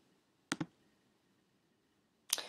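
A computer mouse clicks while editing in Camera Raw: a quick double click, a pause, then another sharp click, close and crisp against a quiet room.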